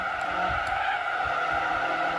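Tyres skid under hard braking in Gran Turismo 4, a steady squealing screech laid over a continuous engine drone, loud and unbroken for a couple of seconds with no talk.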